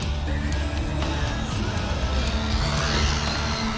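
A Kyosho Ultima RC car spins out when it comes off the throttle hard, a steady buzzing electric motor whine with scuffing tires, close and moderately loud.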